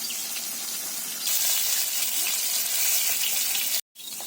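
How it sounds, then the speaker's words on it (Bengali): Large pieces of fish frying in oil in a pan, a steady loud sizzle and hiss that swells partway through before cutting off briefly near the end. "মাছের ভাজি হয়ে গিয়েছে"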